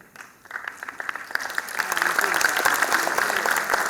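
An audience at a poetry recital honouring martyrs breaks into applause, starting with a few scattered claps that quickly swell into dense, steady clapping.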